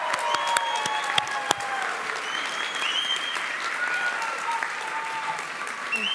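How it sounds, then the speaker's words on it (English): A graduation ceremony audience claps for its graduates, a dense, steady wash of applause sustained for several seconds with scattered sharper hand claps standing out near the start and faint voices mixed in. "Can we give a big, big round of applause?"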